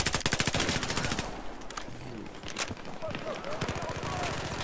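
Rapid bursts of automatic gunfire in the video game Battlefield 4 crackle in quick rhythmic runs, with a few heavier shots between, while a voice talks over the action.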